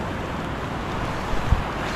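Heavy rain and a rushing, swollen river make a dense, steady roar of water with wind-like noise, loud and continuous, with a faint thump near the end.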